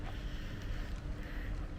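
Wind blowing outdoors near a generator yard, a steady low rumbling buffet of air against the microphone with no breaks, fairly loud and alone.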